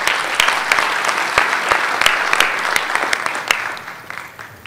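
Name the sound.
audience applauding at a conference session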